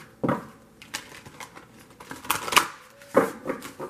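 A thick, hard-to-shuffle Postcards from Spirit oracle deck is shuffled by hand in close, irregular bursts of papery slaps and riffles, with quieter rustling between them.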